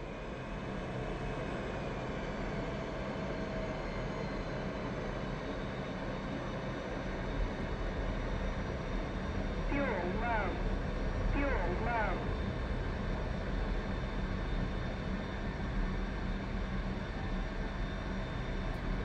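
F-16 Viper and F/A-18 Hornet jets landing in DCS, heard as a steady jet engine roar throughout, with a few brief higher chirps midway.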